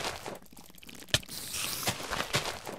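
Crunching footsteps of a Minecraft mob chasing the player in a video game: a few scattered, gritty steps over a steady noisy background, with no talking.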